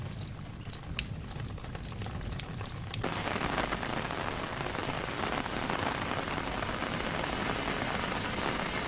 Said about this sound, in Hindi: तेज हवा के साथ बारिश का दौर इस वक्त झुंझुनू में आप देख सकते हैं।